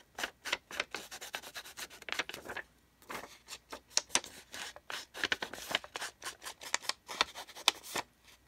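Scissors trim the top off a paper tag, with close, quiet, rapid snips and rustles in irregular bursts and a brief pause; no talking.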